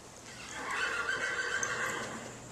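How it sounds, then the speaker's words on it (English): A horse at a city stable in St. Louis gives a loud, drawn-out whinny that rises and falls, heard alone over a faint background hum. "But why are these horses here, right in the middle of everything, and not out in the country?"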